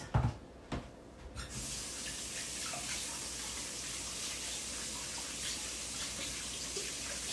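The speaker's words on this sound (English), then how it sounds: "let me rinse my hands real fast" Hot tap water runs steadily into a kitchen sink while someone rinses brown sugar from their hands during holiday baking, a continuous close splashing gush after a few brief knocks at the start.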